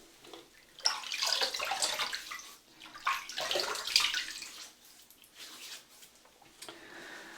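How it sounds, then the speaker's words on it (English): Water splashes and runs at a sink as a face is wetted before shaving, in rough uneven bursts of close splashing and trickling that thin out toward the end. "So let's wet the face."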